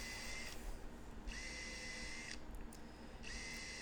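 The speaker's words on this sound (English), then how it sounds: "Again, I use the countersink," A Mano tool countersink bit drills screw holes while a built-in closet cabinet is made, with high whining bursts of the drill spinning up, stopping and starting again several times, close and fairly faint, with no talking.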